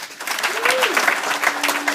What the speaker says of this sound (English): I think all of you deserve a loud round of applause